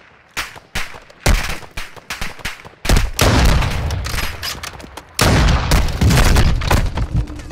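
Gunfire in the shooter game Warzone 2: a series of sharp shots, then loud sustained bursts of automatic fire and booms, close and dense in two long volleys.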